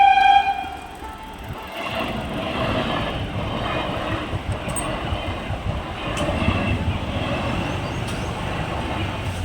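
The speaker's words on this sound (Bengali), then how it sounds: "ট্রেন আসবে তো তার জন্য গেট পড়ে আছে" A train rumbles past a closed level crossing nearby, a continuous heavy rolling roar with rattling wheels that stays loud from start to finish.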